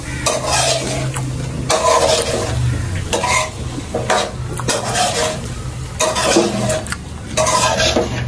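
Potato and cauliflower aloo gobi being stir-fried in a pan, with a spoon scraping and stirring in repeated strokes over a steady close sizzle, no talking.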